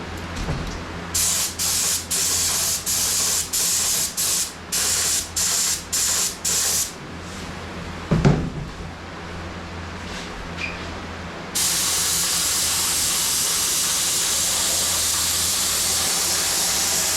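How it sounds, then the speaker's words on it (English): Repeated short bursts of sprayable filler hiss onto a 1969 Dodge Charger in a steady rhythm, then a long continuous spray hissing loudly and close. "I'm going to spray the sprayable filler on this"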